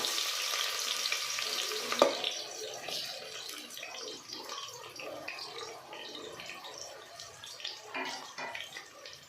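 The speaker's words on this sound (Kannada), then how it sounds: "ಇಲ್ಲಿ ಆಯಿಲ್ ಬಿಸಿಯಾಗಿದೆ. ಇದರಲ್ಲಿ 2 ಬಿಗ್ ಸೈಜ್ ಆನಿಯನ್ನ ಹೀಗೆ ಸಣ್ಣಕ್ಕೆ ಉದ್ದು ಸ್ಲೈಸ್ ಮಾಡ್ಕೊಂಡು ಕಟ್ ಮಾಡ್ಕೊಂಡು ಹಾಕ್ಕೊತಾ ಇದ್ದೀನಿ" Two large onions, sliced thin and long, sizzle and crackle steadily in hot oil in a pan, with occasional stirring and a sharp clink near the start, close and moderately loud.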